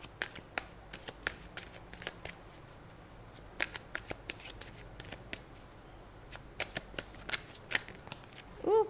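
Tarot cards being shuffled by hand, a close, quiet series of crisp riffling flicks and taps repeating at an uneven pace over several seconds.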